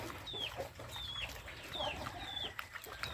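Farm chickens cluck in short, scattered bursts against a steady outdoor background, with a few higher chirping calls mixed in at moderate distance.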